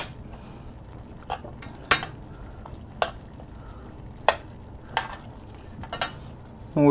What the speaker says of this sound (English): And get the escarole working a little bit. We'll cook it on a medium heat.